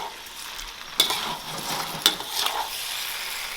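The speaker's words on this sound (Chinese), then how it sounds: "然后把我们炒好的那些食材全部倒进来" Cooked ingredients and onion tossed together in a wok for spicy hot pot (mala xiang guo), with a steady sizzle and two sharp scraping stirs of the spatula against the pan, close and alone.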